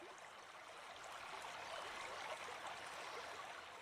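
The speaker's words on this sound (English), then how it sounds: "soothing sound of the water as it flows steadily past" River water flows steadily past in a soft, continuous broadband rush, evenly textured and moderately close, with no voices over it.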